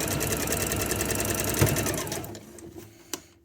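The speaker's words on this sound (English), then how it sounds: "I'm stitching in this first crease of the bias binding" A sewing machine runs steadily, stitching bias binding onto T-shirt fabric with a close, even mechanical whir that slows and stops partway through, followed by a couple of faint clicks.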